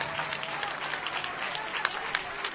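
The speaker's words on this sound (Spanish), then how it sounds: "Este aplauso es vuestro y es para vosotras y para vosotros" A crowd at a street protest applauds, a steady patter of many hands clapping at moderate distance, with faint voices underneath.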